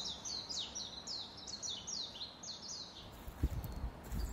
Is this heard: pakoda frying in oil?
no